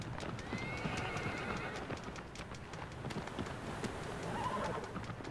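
A horse gallops in Shadow of the Colossus, its steady, fast hoofbeats close and continuous, with a whinny breaking through near the start and again toward the end; no one speaks.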